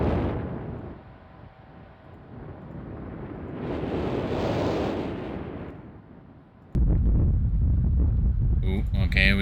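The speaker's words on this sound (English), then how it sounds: "we got the rumbling, like, earthquake noise. Volcano, or volcanic activity." Low rumbling from an island video game suggests an earthquake or volcanic activity, a broad roar swelling in the middle and dropping away, then a louder, denser rumble cutting in near the end.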